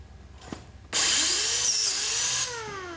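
An automated optimizing saw powers up and runs a trim cut through lumber, a loud sustained whine with a rising and falling pitch sweep lasting about a second and a half, then spinning down, following a brief faint knock.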